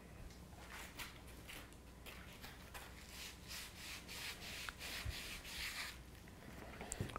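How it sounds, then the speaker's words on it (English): The end of an arrow post is hand-sanded in short, repeated scratchy rubbing strokes, close to the microphone but quiet overall, with a faint clack of handling near the end. "So then the next one, sand the end."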